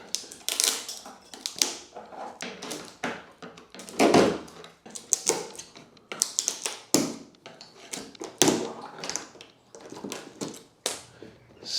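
Hardboard is pried off a 100-year-old door, producing a close series of sharp cracks, taps, creaks and splintering snaps in irregular bursts over several seconds, with no one talking.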